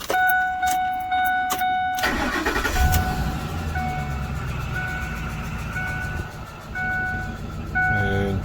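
Ford F-150 with an exhaust cutout installed, its engine cranking with a few clicks and then catching into a loud, steady idle rumble that surges briefly a couple of times.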